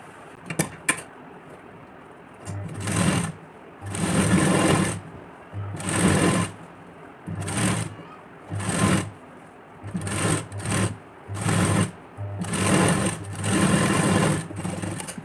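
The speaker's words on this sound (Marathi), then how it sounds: "त्यावरती एक स्टिच देऊन देते" A sewing machine stitches a padded blouse in short repeated bursts of fast whirring, close and loud, stopping and starting with brief pauses between runs.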